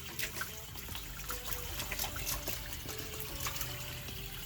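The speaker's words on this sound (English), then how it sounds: "we're having to hold the sides up while it fills up with water" Water runs steadily into a large inflatable backyard kiddie pool, a continuous trickling, splashing flow under faint outdoor background noise, with no talking.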